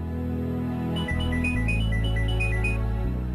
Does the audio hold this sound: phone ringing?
yes